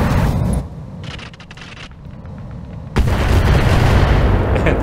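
Mech weapons fire in the BattleTech video game, heavy booming shots with a loud blast up front, a quieter rattling lull, then a second powerful roaring volley that sustains to the end.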